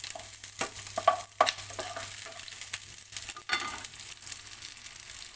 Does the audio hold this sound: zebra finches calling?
no